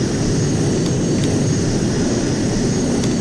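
A JAS 39C Gripen jet landing in a flight simulator game, with flaps down at low speed: a steady, loud, unbroken jet engine roar and rush that holds level throughout, with no voices.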